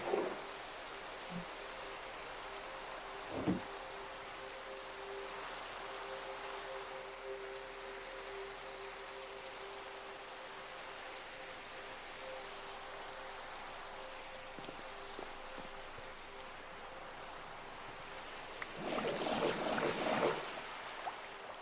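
Rain in the Minecraft modpack Ozone Skyblock Reborn hisses as a steady, soft wash under a faint tonal hum, broken by a few small clicks and a louder burst near the end, no talk.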